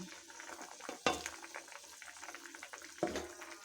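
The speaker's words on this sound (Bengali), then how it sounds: "ঝোল ফুটতে শুরু করে দিয়েছে এবার আমি মোচার যে চপ বা বড়া যেটাই বলুন ভেজে রেখেছিলাম সেটা দিয়ে দিচ্ছি" Fried banana-flower chops drop into a pot of boiling curry gravy, with two soft splashy thuds over a steady close bubbling and simmering, and no voices.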